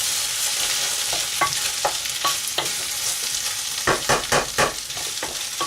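Tomato paste being stirred in a pan for a green bean dish gives repeated scraping, sizzling strokes, steady and close, with a quicker burst of stirring near the end and no talking.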